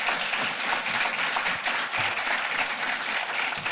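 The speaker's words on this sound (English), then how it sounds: "can we give a round of applause to each of our 4 panellists today?" Audience applause for four conference panellists, steady and sustained clapping from a seated crowd filling the room for a few seconds.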